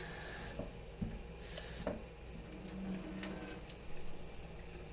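Water pours steadily into a 3D-printed Pythagorean cup, a continuous moderately close trickle and splash with no talking.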